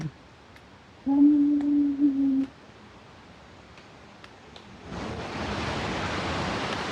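A mountain river on the trail to Gosainkunda swells into a steady broadband rush during the last couple of seconds, after a brief hummed voice tone and a quieter stretch.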